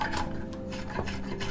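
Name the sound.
spokeshave shaping wood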